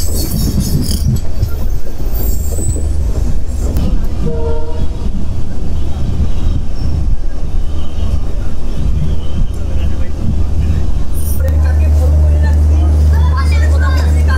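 Tourist Vistadome special train pulling out of Rajabhatkhawa station in the Dooars, with loud continuous rumble and wheel clatter, a brief horn blast early on, and a strong low drone building near the end; no speech over it.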